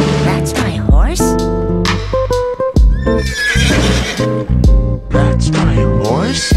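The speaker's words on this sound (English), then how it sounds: "That's my horse." A horse neighs in repeated loud, wavering whinnies, close and prominent, mixed with other voiced sounds throughout.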